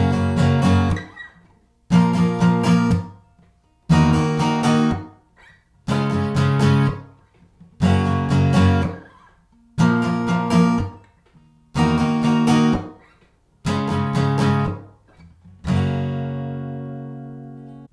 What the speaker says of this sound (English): So those 4 chords as bar chords with that same rhythm would sound like this.